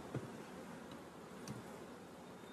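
Honey bees from a shipped package give off a faint, steady, low buzzing hum as they settle onto a pile of bees being installed in a hive, with no talking.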